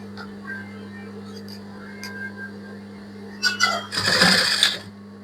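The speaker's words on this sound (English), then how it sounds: "start sewing from the both side of my material" A sewing machine stitches the seam of a child's ball gown in a brief, close burst of under a second, after light handling clicks over a steady electrical hum.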